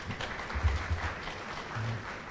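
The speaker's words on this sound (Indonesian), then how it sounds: "Tepuk tangan." Audience at a university send-off ceremony for graduating students giving moderate applause, a soft, even patter of clapping with faint low murmurs underneath.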